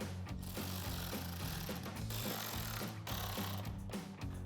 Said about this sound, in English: grab your 7mm socket and tighten all of them down